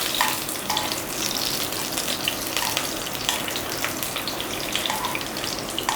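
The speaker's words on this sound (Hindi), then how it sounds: "और जब आप इसको इस तरह तल के खाते हैं" Eggplant slices fry in a pan with a steady, close, even sizzle and hiss that runs unbroken for the whole stretch, with no voices.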